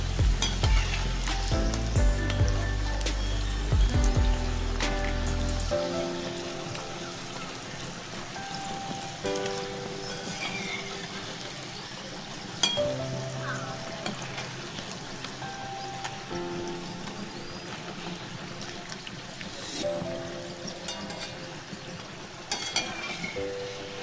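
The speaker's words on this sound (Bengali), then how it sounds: "এরকম করে আমি সব ফুচকাগুলোকে ভেজে নেব" Fuchka (puri) shells frying in hot oil for green fuchka, a steady bubbling sizzle running the whole time with a few soft knocks from stirring, partly under background music.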